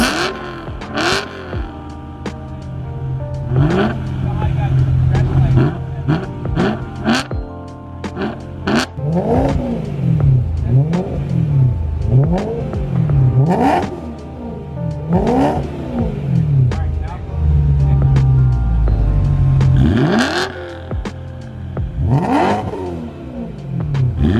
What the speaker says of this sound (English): Exhaust on my car and had a rev battle with Travis